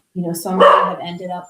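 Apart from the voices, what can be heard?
dog barking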